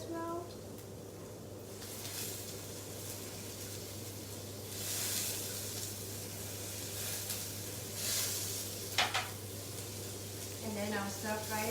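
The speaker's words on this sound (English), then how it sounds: "let me just let it fry a little bit more" Soft steady sizzle of ingredients frying in a pan while mee sua kueh is cooked, low and continuous with a few brief clinks and hiss surges, and a person talking over it.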